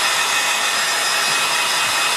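A hair dryer blows over a freshly painted watercolour, giving a steady, close, unbroken whoosh that holds an even level from start to finish with no voices.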